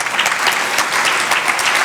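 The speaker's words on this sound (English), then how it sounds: "Definitely applaud for them." Audience applauding at a South Florida Muslim organizations' gala as sponsors are announced, a steady, dense clapping from a sizable crowd that holds evenly throughout without pause.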